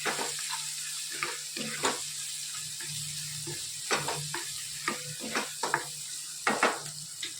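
Gravy with cumin seeds and Kashmiri chili sizzling in a pan for chole, with a steady low hiss broken by irregular scraping strokes of a spoon as it is stirred, close and fairly quiet.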